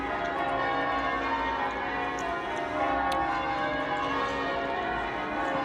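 Church bells ring without a break, their overlapping tones blending into a dense, loud wash that stays steady throughout, with no voices over it.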